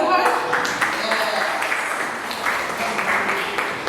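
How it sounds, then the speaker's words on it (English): Children at a camp clap together in a sustained, dense patter of applause that rises and falls over a few seconds, with voices talking underneath. "Shall we give a clap for her?"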